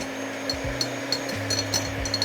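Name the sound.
electric whisk beating meringue on low setting while adding sugar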